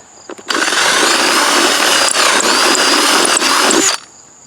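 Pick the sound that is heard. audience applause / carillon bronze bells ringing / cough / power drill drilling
power drill drilling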